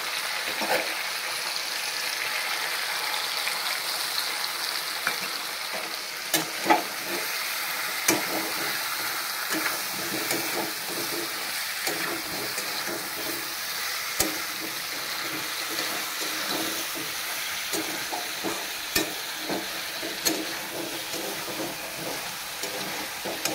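Spice paste being mixed into frying vegetables in a pan, a continuous broad sizzle with scattered clicks and scrapes of stirring, fairly close and steady; no talking.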